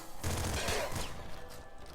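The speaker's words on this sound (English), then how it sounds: "Another plasma rifle." Plasma rifle fire in the video game Nuclear Throne, a loud burst of rapid, crackling shots with a dense blast lasting about a second before fading into game noise.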